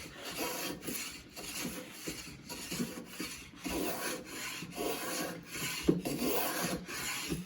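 A shoulder plane is pushed in repeated strokes along a wooden board, taking full-width shavings with a rhythmic, close rasping scrape that rises and falls about once a second, with no talking.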